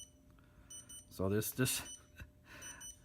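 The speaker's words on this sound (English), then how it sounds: "There's your completion ring. So right now by default, it actually does ring for quite some time. So it'll beep." An HTRC C240 battery charger gives faint repeated high completion beeps, a thin steady tone pattern heard under a man's nearby speech.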